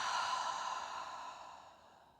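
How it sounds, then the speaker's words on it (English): A single long, soft exhale of a cleansing breath during a yoga class, close and alone, fading out over about two seconds. "Cleansing breath."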